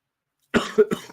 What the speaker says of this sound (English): It's going to take some time for this cough to heal